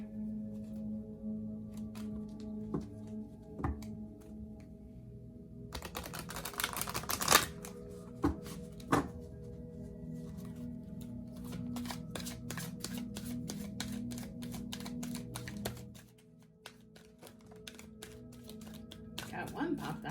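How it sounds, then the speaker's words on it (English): Moon oracle cards being shuffled, with quick papery riffles and crisp flutters in bursts, close and fairly quiet, amid small taps, with a voice talking over much of it. "So let's shuffle these moon cards."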